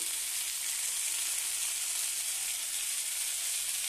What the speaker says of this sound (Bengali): দেখো বন্ধুরা, এবার লঙ্কা গুঁড়োটা দিয়ে দিচ্ছি।